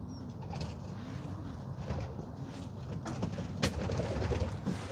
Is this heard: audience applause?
no